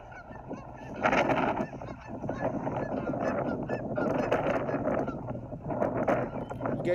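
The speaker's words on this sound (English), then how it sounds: "I heard those geese noises and they alerted me" Geese honking outdoors along a walking trail, a loud continuous flock chorus of overlapping honks mixed with wind noise, fairly close.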